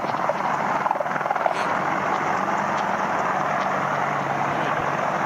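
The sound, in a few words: Apache helicopters clearing a runway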